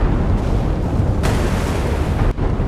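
Battleships blowing up in the naval warfare game Sea Power, a heavy, continuous rumbling barrage of deep booms and blasts, loud and close, with a sharper burst partway through and a brief dip near the end.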